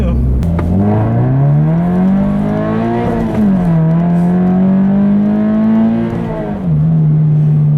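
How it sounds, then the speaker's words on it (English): A Subaru BRZ engine revs up hard and close, climbing in pitch through several gear changes, loud and sustained. "I'll leave you with a nice little acceleration here like I always do."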